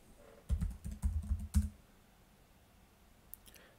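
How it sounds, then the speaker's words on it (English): Computer keyboard typing a command for an MD80 motor controller setup: a quick burst of clustered key clicks lasting about a second, then near silence with one faint click near the end. "Let's type MDtool command once again"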